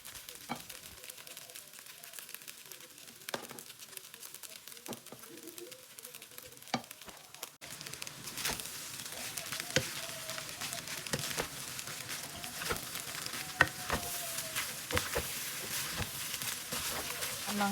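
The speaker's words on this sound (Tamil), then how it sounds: "இனி நாங்கள் கொஞ்சம் கொஞ்சமாக ரைஸை சேர்த்து ஃப்ரைட் ரைஸை கிண்டி எடுப்போம்." Chicken fried rice is stirred and tossed in a pan, with quiet scraping at first, then louder sizzling and irregular clatter as more rice goes in. Speech is faint in the background.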